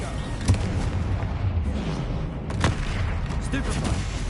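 Bombarda spell explosions in the video game Hogwarts Legacy, with heavy booming blasts around half a second and two and a half seconds over a dense, rumbling battle din, loud and close, with voices mixed in.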